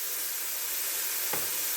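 Seasoned mushrooms cooking in a pan give a soft, steady hiss of sizzling, with one brief scrape of stirring near the end and no talking.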